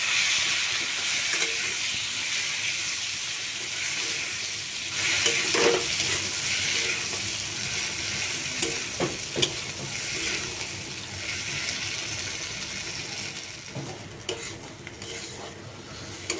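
Potatoes, tomatoes, onions and boiled garlic sizzle loudly in a hot pan for a bharta while a utensil scrapes and stirs them, with occasional clinks over a constant frying hiss.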